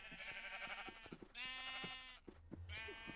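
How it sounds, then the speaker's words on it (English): Several sheep bleat in the Minecraft video game, with distinct loud bleats in repeated bursts, close and clear over soft game background sounds, with no talking. "Some sheep, inexplicably."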